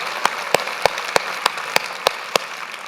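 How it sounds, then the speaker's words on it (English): An audience applauds Knight-Wallace journalism fellows at a TEDx talk. A dense wash of clapping carries a steady run of sharper, evenly spaced claps. "I think a round of applause for the Knight-Wallace Fellows who are sitting here"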